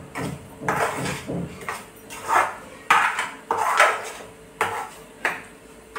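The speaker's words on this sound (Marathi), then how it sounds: "हलवत राहायचं, म्हणजे हे चम्मच देत राहायचं" A metal spoon stirs and scrapes semolina (rava) in a hot kadhai, making repeated clinking, scraping strokes at an irregular rhythm, close and fairly loud with no voices.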